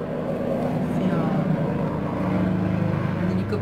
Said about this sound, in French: un hélicoptère qui passe, désolé,